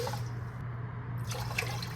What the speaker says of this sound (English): My clean rice is in the pot, and now I need to add 2 cups of water.